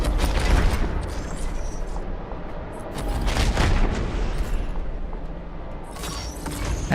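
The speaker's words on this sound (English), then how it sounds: "He's off with the cannons." Ship cannons firing in the Stellaris space strategy game, a series of loud booming blasts every second or so, with rumbling between the shots and no speech.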